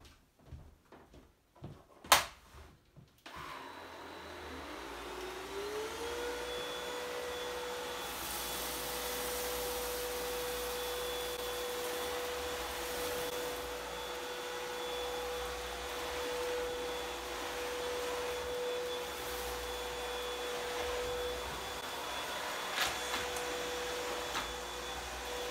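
A Hoover Discovery DS22G vacuum cleaner on turbo over carpet starts after a few clicks and knocks, then holds a steady, moderately loud whine and motor hum for about twenty seconds, with no talking.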